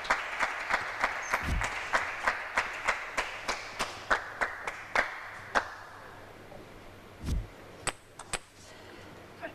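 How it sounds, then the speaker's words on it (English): A spectator at a 2017 women's table tennis match between Matilda Ekholm and Bernadette Szocs claps in a steady, rhythmic beat, sharp and close, slowing into scattered claps near the end. "Deafening clap here"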